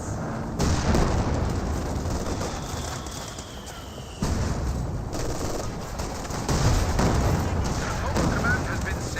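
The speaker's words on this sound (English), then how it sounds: "White phosphorus rounds raining on in, perhaps from the mortar half trap." White phosphorus mortar rounds from a half-track bursting in Company of Heroes 2, a dense, loud wash of rumbling booms and crackling impacts over continuous battle noise, with a commentator talking throughout.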